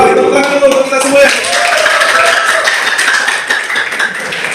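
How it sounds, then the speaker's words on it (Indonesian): A classroom audience at a teacher training session in Banda Aceh claps hands together in a loud, steady burst, with voices chattering over the clapping. "tepuk tangan dulu untuk kita semua ya"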